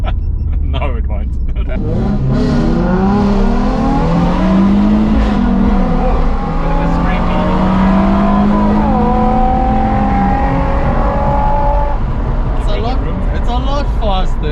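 Nissan 350Z with a new exhaust pulling hard through the gears, a loud rising engine note that climbs, drops at shifts and climbs again from inside the car, while people talk over it.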